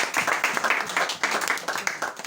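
A church congregation claps and applauds in a dense, continuous burst of many hands during a French-language worship service, loud and close.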